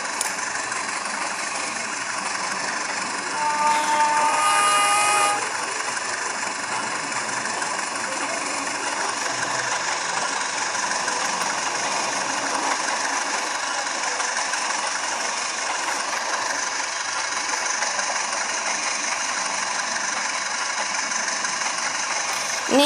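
Underfloor air-conditioning machinery on a Joglosemar Kerto passenger train carriage in the Purwokerto–Kroya–Gombong area hums loudly and steadily with a broad mechanical roar. A few faint tonal beeps come near the start.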